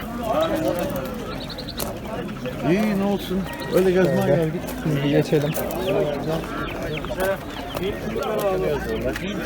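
Pigeons and chickens at a Turkish poultry market, with clucking and cooing mixed into crowded market bustle under steady nearby conversation in Turkish.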